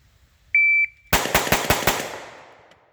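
A sharp electronic timer beep sounds twice, then five loud shots from a Palmetto State Armory Dagger pistol ring out in rapid, evenly spaced succession with a ringing decay after.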